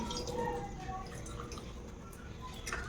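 Hands are washed under a thin stream of water, soft close dripping and trickling for a few seconds, quiet and steady, with no talking.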